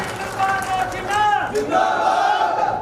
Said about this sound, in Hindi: इनका भी जोरदार तालियों से आप स्वागत करें।